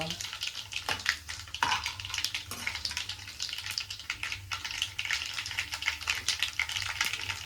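Ingredients for raw mango pachadi fry in a pan, a soft continuous sizzle with scraping stirs and occasional knocks of a utensil, close and fairly quiet.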